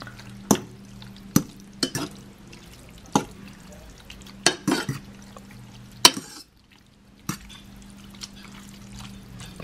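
Ground beef cooks in a pan under a low steady frying hiss, punctuated by about a dozen sharp spatula taps and scrapes as it is stirred; near and fairly clear, with a brief quiet gap partway through.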